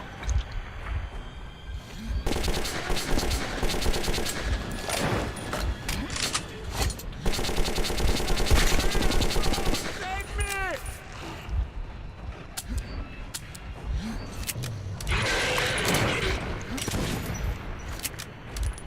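Gunfire in the first-person shooter Metro 2033: bursts of rapid automatic shots and scattered single cracks come and go over a steady noisy game backdrop, with a voice speaking now and then.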